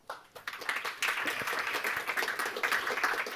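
Conference audience breaking into applause, dense steady clapping from a large room that swells in quickly after a soft start and carries on loudly throughout.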